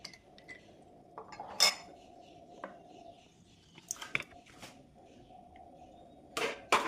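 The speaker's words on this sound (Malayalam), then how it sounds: "ഒരു ഐസ് ക്യൂബും കൂടി ഇട്ട് സെർവ് ചെയ്യാം" Ice cubes dropped into a glass of healthy homemade juice before serving, producing a few sharp glassy clinks and clatters spread apart against a faint background hum.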